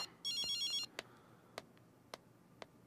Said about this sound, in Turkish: Telefonu çalıyor.